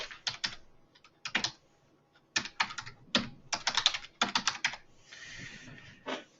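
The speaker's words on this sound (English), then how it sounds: "type in an email address" Fingers tapping out an email address on a computer keyboard, close crisp keystrokes in quick bursts with short pauses between groups.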